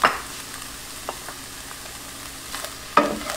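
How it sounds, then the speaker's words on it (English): Bite-sized pieces of char siu pork sauté in a pan with a soft, steady sizzle, broken by a sharp scrape of stirring at the start and again near the end. "Just saute that."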